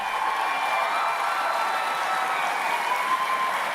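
Applause from a concert audience for a gospel group of young male performers, a steady dense wash of clapping that holds evenly for the whole stretch with no voices over it.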